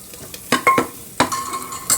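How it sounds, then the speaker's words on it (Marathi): Onion and tomato puree sautéed in a little oil for dhaba-style country chicken curry, with a few sharp spoon clacks and scrapes against the pot over a faint sizzle. "त्यात थोडंसं तेल घालायचं एक दोन चमचे आणि चांगलं परतायचं"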